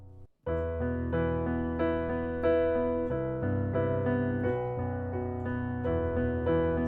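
Piano notes rolling through broken chords of a song in a steady flowing pattern, each chord spread out note by note, played alone without any voices.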